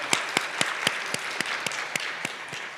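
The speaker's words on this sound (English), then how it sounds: "Another round of applause." Sparse, evenly spaced claps from a small audience at a maternal and child health conference breakout session, about a dozen distinct hand claps over a soft background.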